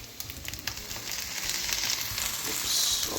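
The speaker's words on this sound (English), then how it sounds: "now it's time to add the pasta" A sizzling, frying hiss rises as pasta goes into a hot frying pan for German Käsenudeln, with faint stirring scrapes underneath and no talk.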